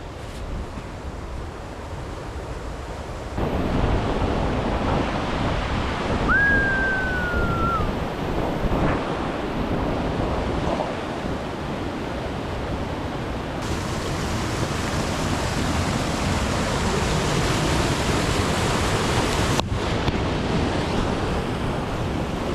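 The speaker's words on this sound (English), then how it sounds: "Waterfall." A mountain waterfall in Colorado, a steady broadband rush of falling water that fills the scene continuously, close and fairly loud, with wind buffeting the microphone.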